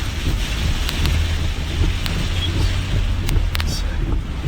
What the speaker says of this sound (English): Especially when it's raining like this.